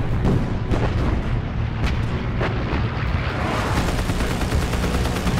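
Naval gunfire and bursting shells from the World War II Battle of Leyte Gulf, a dense, loud, continuous roar of blasts and rumbling detonations with sharper cracks mixed in.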